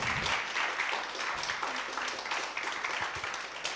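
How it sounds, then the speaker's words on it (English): Audience applause at a conference speakers' corner after a talk, with steady moderate clapping throughout and faint voices mixed in beneath it. "Big applause for you for your interesting talk."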